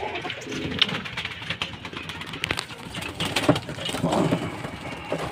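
A racing pigeon arriving at a loft after a 202 km derby race in Caranglan, Nueva Ecija, with soft cooing and fluttering bird sounds over outdoor background noise.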